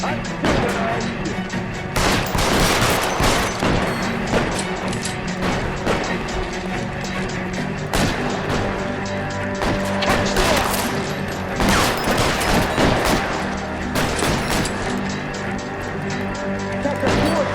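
Dense gunfire in an L.A. Noire shootout, with repeated loud shots and crashing impacts in clustered bursts over game sound, and a voice speaking partway through.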